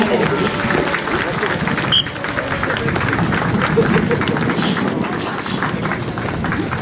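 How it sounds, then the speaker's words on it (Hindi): Applause and crowd noise from an audience at an SSB dog show during a parade, steady dense clapping with general hubbub throughout. "आपसे अनुरोध है कि कृपया ताली बजाकर इनकी हौसला अफजाई करें"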